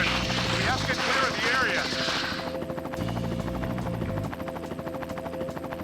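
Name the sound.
helicopter in the video game Armored Core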